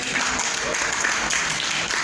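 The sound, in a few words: audience applause for a speaker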